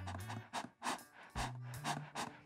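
Heavy, laboured panting breaths from a person struggling after inhaling bleach fumes in a room where bleach was poured into a computer, several loud close rhythmic gasps with no talk.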